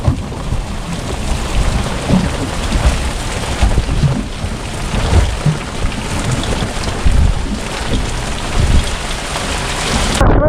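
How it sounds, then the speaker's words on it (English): Heavy rain pounds down with rolling thunder during a storm at a sandy boat ramp, a loud, continuous wash with deep rumbles swelling throughout and no voices. "There's a fucking storm."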